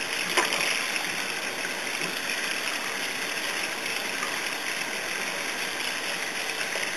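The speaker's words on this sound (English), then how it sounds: "Turn that on and just rinse this out good." Water runs steadily from a tap, rinsing dye out of rabbit hair, a constant close hiss with no pauses.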